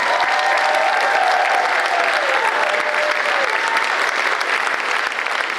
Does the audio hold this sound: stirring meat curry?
no